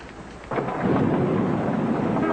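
Rain drums steadily during an evening drive, and halfway in a low roll of thunder swells up and rumbles on beneath the downpour, with no one speaking.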